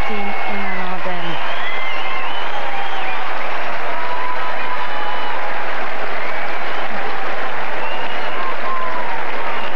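Belgian fans applaud and cheer in a tennis stadium after the women's final win in Dubai, a dense, steady wash of clapping filling the space, with a commentator talking briefly near the start.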